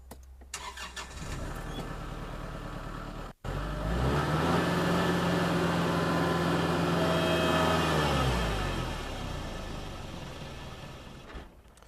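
A Kubota tractor with a mechanical hydrostatic transmission runs at the start, then roars up loudly and holds a heavy, labouring drone for several seconds as it pushes into a pile of dirt with the pedal floored, before easing off.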